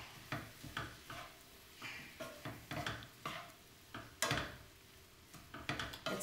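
Maitake mushroom stir fry being mixed with tamari in a pan: a run of close, uneven utensil scrapes and clinks against the pan, steady through the whole stretch with one sharper knock near the end.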